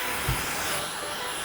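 A hair dryer blows over hair set in curlers, giving a faint, steady airy whoosh with one brief low thump near the start.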